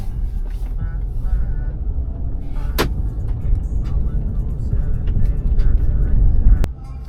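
Car interior while driving through a city in frosty weather, a steady low road and engine rumble throughout, with a sharp click partway and another near the end as the noise drops.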